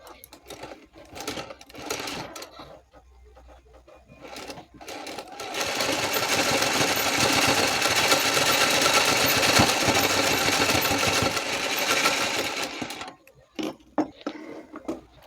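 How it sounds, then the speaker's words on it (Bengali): Rapid stitching from a sewing machine makes a loud continuous run of about seven seconds while blouse latkan tassels are sewn, with short mechanical clicks and handling noises before and after. "এখান থেকে দুই সুদ বাদ দিয়ে সেলাই করে নেব যেমনভাবে আমরা নর্মাল লটকানগুলো সেলাই করি"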